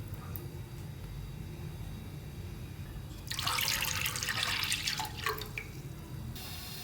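Full-fat milk is poured into a pan for homemade condensed milk, a soft liquid splashing that swells for a couple of seconds mid-clip over a quiet room hum.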